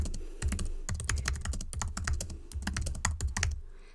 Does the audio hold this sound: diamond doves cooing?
no